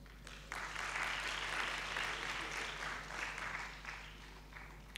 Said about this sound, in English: Can we give a round of applause to her